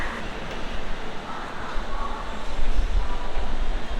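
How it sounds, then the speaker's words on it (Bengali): Kandari Express departing platform 19 at Howrah station bound for Digha, a broad steady rumble that swells as the train moves off, close and loud with a deep low-end roll. "কান্ট্রি এক্সপ্রেস হাওড়া স্টেশনের উনিশ নম্বর প্ল্যাটফর্ম থেকে ডিপার্ট করছে"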